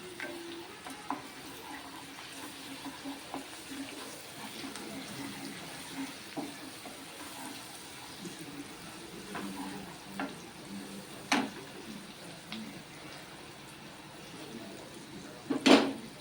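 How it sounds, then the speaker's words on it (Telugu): Ginger-garlic paste and turmeric fry in a pan for a chicken curry, giving a faint, continuous sizzle with occasional light spoon clicks and scrapes against the pan. Quiet throughout, with no talking. "అల్లం ఎల్లుల్లిపాయ పచ్చివాసన పోయేంతవరకు కొంచెం వేసుకుందాం"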